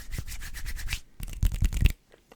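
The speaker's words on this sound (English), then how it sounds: "dry hand sounds" Dry hands rub briskly together up close, making two short bursts of rhythmic swishing friction with a brief pause between them, followed by a few faint taps.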